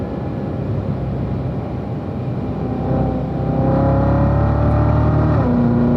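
Corvette engine on a race track during driving school, a loud in-cabin drone that swells as revs climb, with rising tonal whine and steady rumble, continuous and close without talk.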